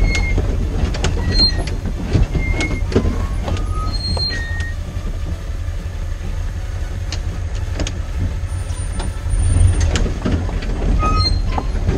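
A Series 1 Land Rover on the move, heard from inside as a loud, steady low engine rumble with rattling and clunking from the old vehicle throughout, and no talk.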